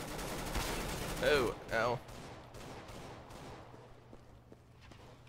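Gunshots in CS:GO ring out in quick bursts early on, with a few sharp follow-up cracks, while a voice lets out pained exclamations over the shooting and a steady game hum runs underneath.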